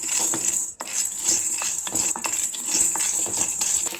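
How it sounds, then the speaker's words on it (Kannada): Chana dal (Bengal gram), about 25 grams, frying dry in a pan for masala sambar powder, with steady metallic scraping and clinking of a spatula stirring the lentils against the pan, close and continuous. "ನಾನೀಗ ಕಡಲೆಕಾಳನ್ನು ಫ್ರೈ ಮಾಡ್ಕೊತಾ ಇದ್ದೀನಿ"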